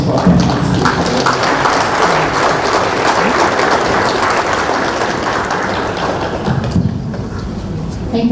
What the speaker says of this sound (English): give a big round of applause for our panelists